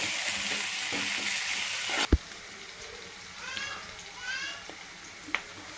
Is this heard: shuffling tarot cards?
no